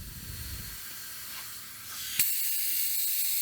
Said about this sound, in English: I got the hose hooked to my bleeder, and this is my gun right here. So pretty much you're going to hear the air